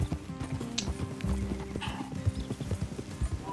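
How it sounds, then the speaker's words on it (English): Hooves of a donkey clip-clop in Red Dead Redemption 2, a rapid irregular patter of close, fairly quiet hoofbeats over low rumbling, with a brief whinny-like call mixed in. "I'm not riding a pony. I'm riding a donkey."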